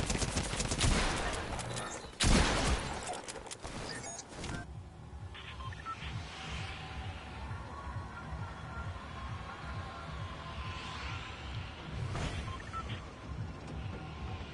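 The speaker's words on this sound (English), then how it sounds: "Oh, that's what it feels like to fire a gun." Gunfire from a Fortnite match: a loud burst of rapid shots opens, followed by scattered single reports and faint distant shots over a steady game ambience.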